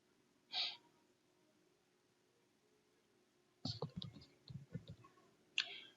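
A single sharp mouse click on an execute button in automation control software, brief and fairly clear against a quiet background, followed later by a stretch of soft clattering and handling noise.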